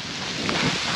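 Cold freezing rain pours down steadily during a 50-mile rails-to-trails run near Ottawa, Kansas, a dense continuous hiss of drops.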